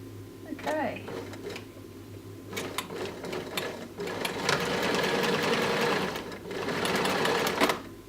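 A sewing machine stitches a buttonhole into a shirt collar with a steady, close mechanical whir that runs nearly continuously, briefly pausing and then resuming, while a person talks over it.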